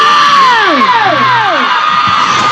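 Crowd of fans shouting and cheering at a live band show in Surallah, a loud continuous roar of voices with whoops and rising shrieks over steady music.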